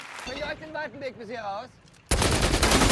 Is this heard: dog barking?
no